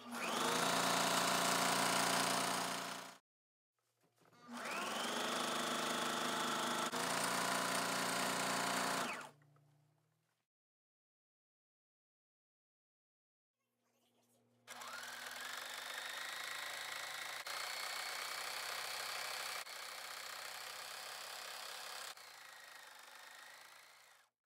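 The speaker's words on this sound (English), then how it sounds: "We're ready to sew it right now. I just use a 1/4 inch seam, and we're gonna sew all the way from the top down to the bottom." A sewing machine runs a quarter-inch side seam on a ribbon skirt in three long steady bursts of fast, even stitching, separated by short pauses, up close and with no talking.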